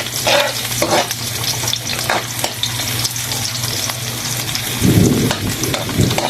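Garlic and onion sauté together in hot oil, giving a steady close sizzle broken by scraping stirs, with a louder burst of frying near the end.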